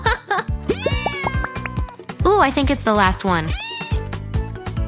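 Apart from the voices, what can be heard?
kittens meowing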